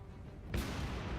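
Explosion from a War on the Sea naval combat game, a sudden loud broadband boom bursting in about halfway through, then a sustained rumbling roar over low background noise.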